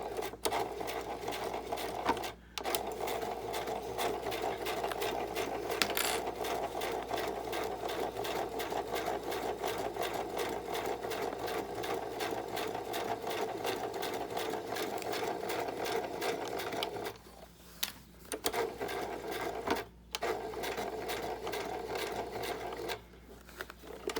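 A small-throated sewing machine stitches pockets onto a paper stamp folio, its needle whirring in a fast steady rhythm with a few brief pauses, close and fairly quiet, with no talking.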